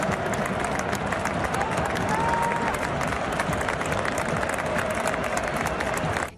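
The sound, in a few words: stadium fans applauding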